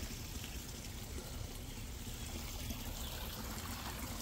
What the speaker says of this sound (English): It's really a nice creek though.